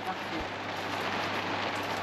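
Rain falls steadily outdoors, a dense hiss of drops pattering on surfaces throughout, with a low hum underneath.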